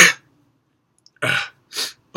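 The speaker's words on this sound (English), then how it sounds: "there's just no way to avoid a sneeze that's coming" A sharp sneeze, with a brief breathy tail, then a pause, and two short exhalation bursts follow, one after the other.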